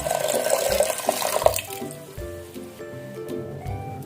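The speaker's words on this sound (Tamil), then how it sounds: "இப்போ இதில் ஒரு 3 டம்ளரு தண்ணி போட்டுக்குவோம்." Three tumblers of water are poured into a pot of mutton soup, a splashing gush for about a second and a half that gives way to quieter kitchen clatter and faint bubbling.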